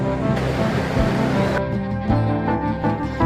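Rushing icy snowmelt stream tumbling over stones in the mountains near Batakundi, Swat, a loud, steady broadband roar of churning water filling the whole span with no break.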